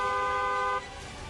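A car horn sounds one steady, loud honk of stacked harmonic tones lasting under a second, then cuts off, leaving low background noise.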